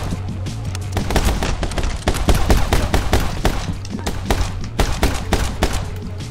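Rapid gunfire from the video game My Friend Pedro crackles in dense, loud bursts of sharp shots, nearly continuous volleys with short uneven gaps throughout.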